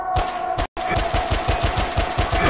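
Automatic gunfire from a video game, rapid evenly spaced shots in a steady loud burst that cuts out for a brief moment and then resumes.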